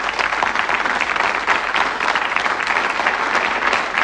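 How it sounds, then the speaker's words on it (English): A studio audience at a 1984 Christmas game show applauds the finalists, with steady, dense clapping filling the room at full volume throughout. "Give them a nice round of applause."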